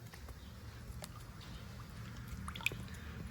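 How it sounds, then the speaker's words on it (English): Clear coat paint being stirred in a container for an engine bay refinish, soft wet squishing and dripping sounds with occasional light taps, quiet and close, no talk. "Make sure we stir it real good"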